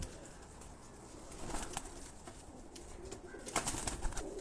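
Pigeons on a rooftop cooing in a loose group, soft repeated low calls with occasional wing flutters, moderately close against steady outdoor background noise.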